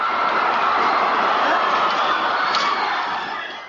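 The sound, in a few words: crowd protesting in Bucharest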